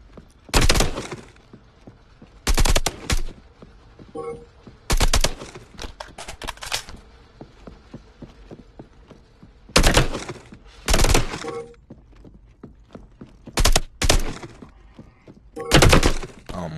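Gunshots in a close-quarters combat training arena video game, sharp loud bursts fired in short clusters with brief pauses between volleys, some rapid back-to-back shots, close and dominant over quiet background.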